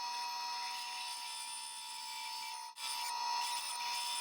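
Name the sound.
bandsaw cutting wooden top rail of jewelry box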